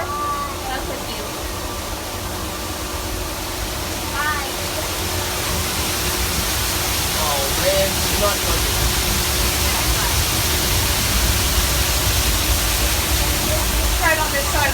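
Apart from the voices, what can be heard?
waterfall at a zoo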